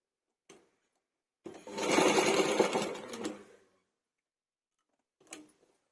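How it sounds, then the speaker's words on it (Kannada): A sewing machine stitches a belt strip on a blouse in one quick burst of close, rapid whirring, framed by faint clicks before and after. "ಬೆಲ್ಟ್ ಪಟ್ಟಿನ ಸ್ಟಿಚ್ ಮಾಡ್ಕೋಬೇಕಾಗುತ್ತೆ"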